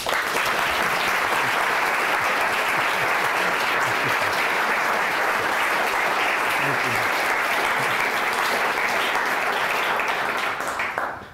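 Sustained audience applause welcoming historian Dr. Robert Dallek at the Bishop's School, a dense wash of many hands clapping steadily for about eleven seconds before tapering off at the end.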